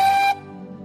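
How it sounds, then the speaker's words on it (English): A big yellow tender engine lets out one brief, bright steam whistle at close range, sounding loud and clear for about a third of a second before cutting off into a low rumble. "tender engine with a whistle that sounds like this."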